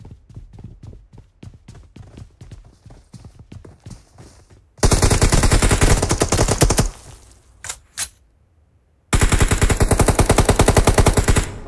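Loud bursts of automatic gunfire in the battle royale game BGMI, first a run of separate rapid shots, then long sustained sprays broken by brief pauses, close and dominant with no talk.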